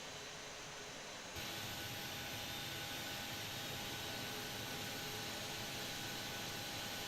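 A jet engine spools up in a flight simulator game, departing Seattle: a steady broadband roar with a thin whine that jumps louder after about a second and then holds at a constant level.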